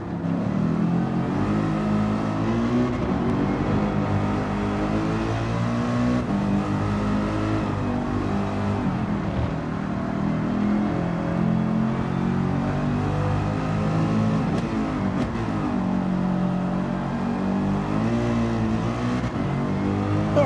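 Race car engine in Gran Turismo 7, driven with wheel damage and failing brakes, drones loudly and steadily throughout, its pitch rising and falling as the revs change, with no talking.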